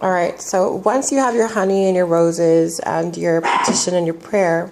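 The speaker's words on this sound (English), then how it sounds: "sorry, excuse the dogs" Several dogs bark on and off in the background of an indoor room, mostly buried beneath continuous close-up speech that carries on throughout.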